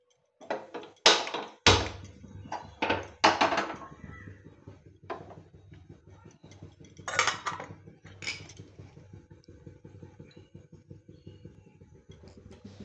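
A wok (kadai) is set down on a stove while cooking peyaz, giving a few sharp metallic clanks and knocks near the start, with lighter clatter of pans and utensils following.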